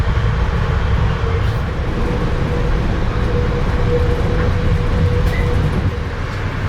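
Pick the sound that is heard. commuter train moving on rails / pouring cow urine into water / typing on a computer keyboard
commuter train moving on rails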